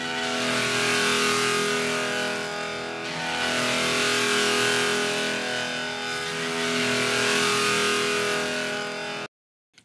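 A tambora sample from the EastWest RA virtual instrument runs through a distortion plugin with gain applied. It roars as a dense, gritty drone that swells in waves, loud and alone, then cuts off abruptly.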